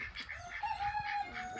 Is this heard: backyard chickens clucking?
yes